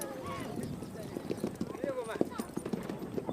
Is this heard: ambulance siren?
no